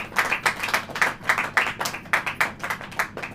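A church congregation claps hands in a quick, lively rhythm, many sharp overlapping claps close by and steady throughout, with no talking.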